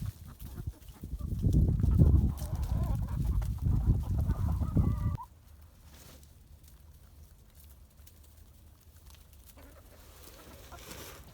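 A rooster clucks and calls in low, rapid bursts for about five seconds, calling his hens, fairly close, then the sound drops to quiet background.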